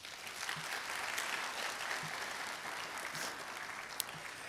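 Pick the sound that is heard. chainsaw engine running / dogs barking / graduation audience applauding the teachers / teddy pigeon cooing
graduation audience applauding the teachers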